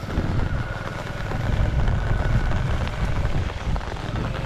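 Heavy rain pours down in a dense, continuous roar that stays loud and close throughout, with no voices over it.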